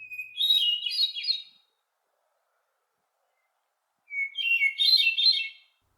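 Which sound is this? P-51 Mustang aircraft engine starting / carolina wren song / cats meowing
carolina wren song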